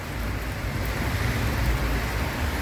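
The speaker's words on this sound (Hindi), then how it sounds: "बारिश जो है वो बहुत तेज़ हो रही है" Heavy rain pours down at night as a steady, dense hiss and roar that keeps up evenly throughout. No one speaks.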